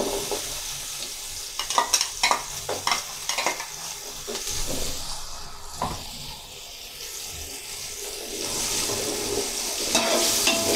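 Carrots being stirred into rice frying in a pan for Chinese-style fried rice, with repeated scraping stirs over a steady close sizzle and brief watery sounds near the end.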